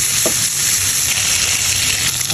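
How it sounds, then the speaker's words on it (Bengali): Rohu fish pieces fry in masala in a pan with a loud, steady, close sizzle that runs unbroken from start to finish. "মাছ ভাজি হয়ে গেছে নামাই নেব"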